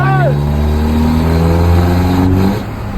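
Remapped Chevrolet with a six-speed gearbox pulling hard after a gear change, a loud steady engine drone rising in pitch over about three seconds before easing off, close to the cabin.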